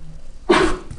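A single short, sharp sneeze bursts out abruptly against a quiet room, lasting under half a second.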